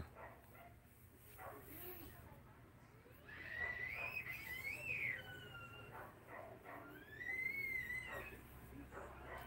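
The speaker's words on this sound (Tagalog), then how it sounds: "Maingay ang maliit na aso." A small dog gives two short bursts of high, yelping barks, a few seconds apart, quiet and somewhat distant, with a person speaking softly in the background.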